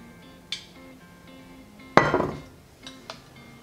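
A utensil stirs olive oil into pesto in a bowl, giving a few scattered clinks and scrapes against the dish, with one louder knock and a short rattle in the middle.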